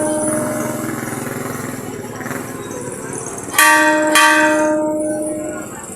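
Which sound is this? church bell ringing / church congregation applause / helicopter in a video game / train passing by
church bell ringing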